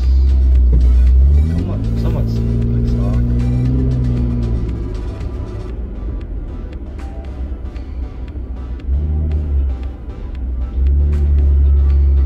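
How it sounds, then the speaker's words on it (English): A Jeep engine fitted with a Pedal Commander accelerating in sport mode, a loud, close, low rumble that climbs in pitch and then settles, with someone talking over it. "you can kind of feel the engine just revving"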